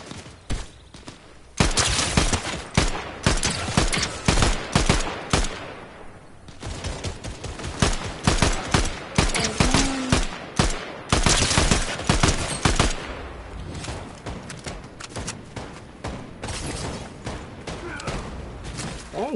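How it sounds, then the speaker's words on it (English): Rapid bursts of gunfire in the Fortnite video game, loud, dense volleys of shots and cracks continuing almost nonstop, with brief lulls between barrages. "Oh, this guy is still shooting at me?"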